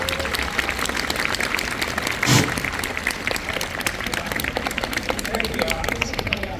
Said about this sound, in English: Big round of applause for Eddie, please.